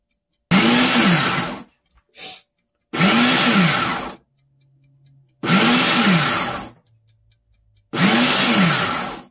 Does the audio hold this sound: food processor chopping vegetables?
yes